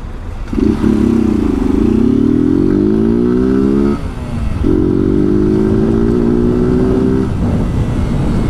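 A motorcycle on its original exhaust revs loudly twice up close, each rev a steady, rising drone of several seconds with a short pause between, over outdoor street noise.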